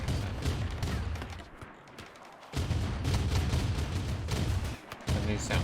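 Autocannon fire in the video game RimWorld, 25mm cannons letting off dense rapid bursts of booming shots that stop briefly and then resume, loud and continuous.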